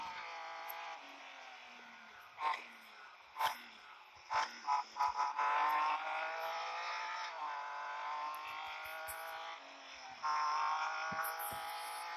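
A BMW 1 Series M Coupe engine drones steadily while racing in Real Racing 3, a buzzing mid-pitched hum with brief bursts and shifts in revs, fairly faint and with no talking over it.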